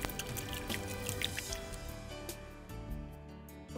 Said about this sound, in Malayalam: കുറച്ച് വെള്ളം നനച്ച് കൊടുക്കണം,